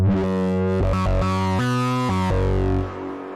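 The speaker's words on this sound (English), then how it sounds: "it gets kind of crazy with more complex harmonic instruments like this Moog right now" A Moog synthesizer plays a sustained sequence of harmonic-rich, distorted notes through reverb and effects in a live session. Each tone shifts in pitch and the reverb tails off at the end, with no talking.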